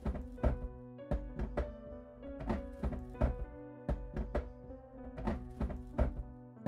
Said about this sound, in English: until I heard the thumping